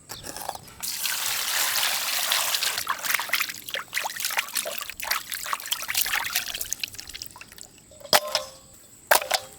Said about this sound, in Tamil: மீனை சுத்தமாக கழுவி எடுத்தாச்சுங்க.